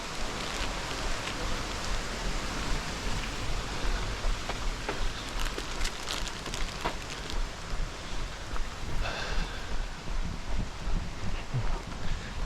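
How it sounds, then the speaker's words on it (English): Heavy rain pours steadily alongside a rushing river in Todoroki Ravine, Japan, a dense, constant wash of hiss and roar with no talk over it. "you should get some nice river sounds with a heavy rain"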